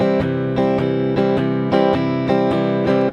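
Rhythm guitar strummed in a swing feel, chords struck in a steady lopsided long-short pattern, each strum ringing bright and full at close range with no voices.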